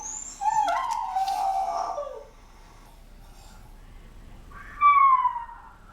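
A distressed dog left alone at home howls and whimpers in two separate bursts, a longer wavering cry followed by a quieter pause and then a shorter high falling wail, heard fairly close with faint room noise.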